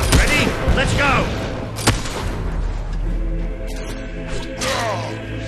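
Mortar fire incoming in the video game Fable 3, with loud booming blasts and crackling battle noise layered under game dialogue and a sharp impact near the two-second mark.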